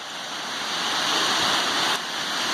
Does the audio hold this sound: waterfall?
yes